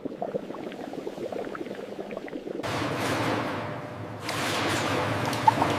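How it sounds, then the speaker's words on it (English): Water flumes with aerated agitation wash papayas in a fruit processing line, a steady rushing, bubbling churn that grows louder and fuller in two steps, with no voices. "Aerated agitation scrubs every inch of the fruit without abrasive contact."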